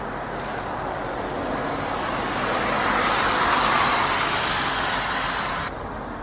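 A car pulls away on a road, its engine and tire noise rising into a broad rumble that swells toward the middle and then drops off, with no one speaking.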